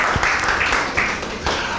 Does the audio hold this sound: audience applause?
yes